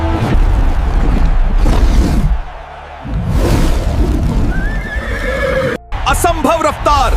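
A horse neighs in a Hindi cartoon with Hulk and Iron Man, the whinny rising loud near the end over a busy soundtrack of music and effects.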